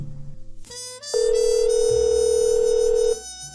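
A telephone tone sounds in a cartoon Hindi story, a long steady electronic beep held for about two seconds among short melodic tones and effects.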